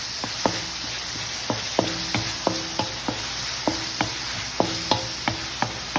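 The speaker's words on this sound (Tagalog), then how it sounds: "Gigisa muna yung kamatis. Saka yung bawang." Tomato and garlic sizzle in a hot pan, stirred with a utensil that gives a dozen or so sharp clinks and scrapes at an uneven rhythm over a steady frying hiss, close by and with no talk.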